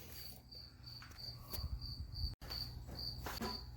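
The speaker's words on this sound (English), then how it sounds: "I apologize for the crickets." Crickets chirp steadily in a high, continuous trill, with a few soft bumps and rustles nearby.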